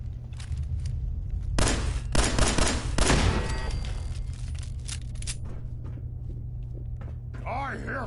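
Gunfire in the video game Fallout 4, several loud bursts of shots and booms over a low rumble, with talk across much of the passage.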